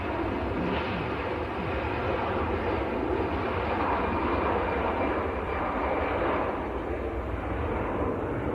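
A Jet2 Airbus A321 jet rolls for departure at Manchester Airport, a steady broadband engine roar that stays loud and continuous throughout, with no voices over it.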